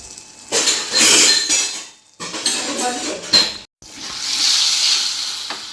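Spoons scrape and clink against a dish while salt, turmeric and pickle spice are mixed for citron pickle, close and busy in bursts with brief pauses, no talk.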